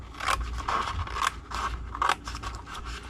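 Scissors snip through Halloween treat-box cardstock along score lines in a quick series of close, crisp cuts, several sharp bursts with brief pauses between them and no talking.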